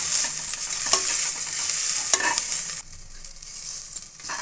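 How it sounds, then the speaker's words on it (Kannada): Fresh mint leaves frying in oil in a pan while being stirred, a steady close hissing sizzle with scraping stirs, loud throughout and dropping slightly in intensity near the end, no voices. "ಇವಾಗ ಪುದೀನ ಹಾಕ್ಕೊಂಡು ಒಂದೊಳ್ಳೆ ಮಿಕ್ಸ್ ಕೊಡಿ ಚೆನ್ನಾಗಿ ಫ್ರೈ ಆಗಬೇಕು ಪುದೀನ"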